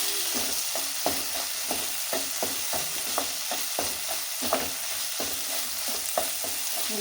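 Veg fried rice with sauce is tossed and stirred in a hot pan: a continuous sizzle with regular, close spatula scrapes and knocks, about two or three per second, steady throughout with no speech.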